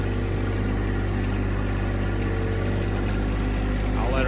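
Riding lawnmower engine running, a loud, steady mid-pitched drone held close throughout without breaks.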